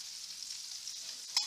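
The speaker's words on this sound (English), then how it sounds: "I'm just going to cook this till we've got a bit of brownness going on" Fish pan-frying in a hot pan, a steady bright sizzle running throughout with a brief louder crackle near the end; no voices.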